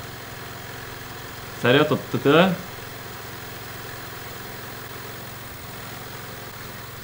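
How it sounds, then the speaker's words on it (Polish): Lawn mower engine idling in the Hello Neighbor video game, a steady low mechanical drone running throughout at moderate level, with a brief burst of someone talking over it. "To jest ta kosiarka?"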